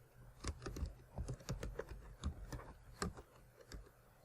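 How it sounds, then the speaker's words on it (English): Fingers type quickly on a computer keyboard, producing close, uneven bursts of sharp key clicks and a few heavier thumps, with no voices. "Hit I on the keyboard to go in insert mode"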